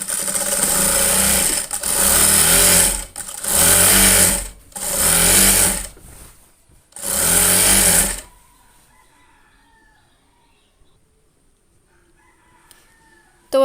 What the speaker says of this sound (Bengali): এখন এই ঘরের মাঝখান দিয়ে একটা টান দিতে হবে টান বলতে সেলাই দিতে হবে